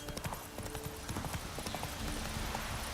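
Steady hoofbeats from Roach the horse in a video game, a close, continuous clip-clop trotting rhythm against busy background noise, with no one talking.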